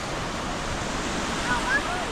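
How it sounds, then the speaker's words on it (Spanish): Sea waves wash onto the shore at El Tecolote beach near La Paz, Baja California Sur, a steady broad roar of surf with wind, with no pauses. "Ya estamos aquí a la orilla del mar."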